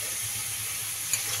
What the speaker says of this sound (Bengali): নুন হলুদ দিয়ে চিংড়ি মাছটা ভাজা হচ্ছে।